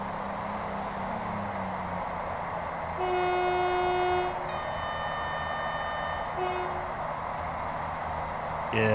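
Train Sim World 5 commuter train in Northern livery running toward Manchester Airport, a steady rumbling rail drone with a long two-tone horn blast in the middle and a shorter horn note near the end.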